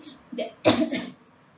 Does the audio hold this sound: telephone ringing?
no